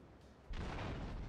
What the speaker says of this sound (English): I do like the explosion effects in this game now.